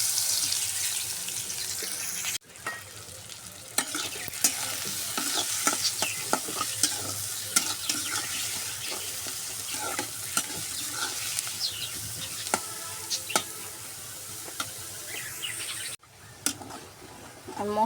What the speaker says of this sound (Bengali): আলু ভাজা তেলের মধ্যে আমি পেঁয়াজগুলো দিয়ে দেবো